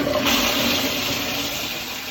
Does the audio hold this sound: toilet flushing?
yes